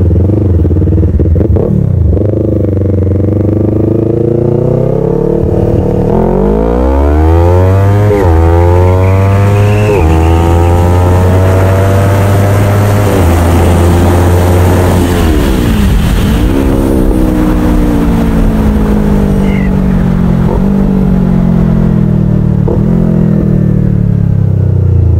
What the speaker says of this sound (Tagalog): Ay, grabe, lakas ng motor na to guys.